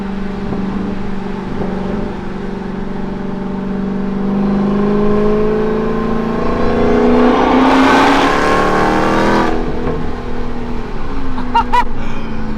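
Dodge Hellcat V8 engine revving from inside the car, a loud rising roar climbing through gears with a harsh peak near the end, then settling to a lower drone.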